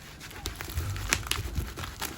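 Kershaw knife slicing through layered watch box packaging, a close run of crinkly tearing and crackling cuts with a few sharp snaps, no talk.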